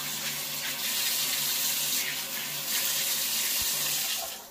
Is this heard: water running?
yes